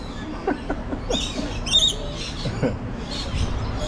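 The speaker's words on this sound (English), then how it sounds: "Birds are crazy pets to have because, man, they just squeal all day." Shrill lorikeet squawks and chirps burst out repeatedly over a busy background, loud and close, with short harsh calls overlapping.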